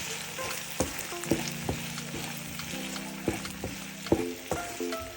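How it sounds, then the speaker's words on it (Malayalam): Two onions, a tomato and four green chillies fry in oil as the base of a chicken curry, a dense close sizzle with repeated spoon scrapes and knocks while stirring, a faint steady tone humming underneath. "പിന്നെ ഞാൻ രണ്ട് ഉള്ളി ഒരു തക്കാളിയും നാല് പച്ചമുളകാണ് എടുത്തിട്ടുണ്ടായത് അത് ഒന്ന് ഈ എണ്ണയിലേക്ക് ഒന്ന് മിക്സാക്കി നന്നായിട്ട് ഒന്ന് ഇളക്കി"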